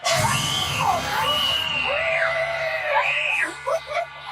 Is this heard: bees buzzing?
no